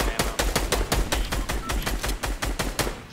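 Fortnite assault rifle fire sounds as a rapid, evenly spaced burst of about sixteen loud, sharp shots over roughly three seconds, with no talking.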